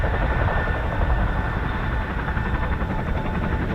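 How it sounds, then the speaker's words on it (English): Chinook helicopters at RAF Coningsby produce a loud, continuous rotor and engine roar with steady pulsing throb, filling the air without pause. "Let me just check on the Chinooks."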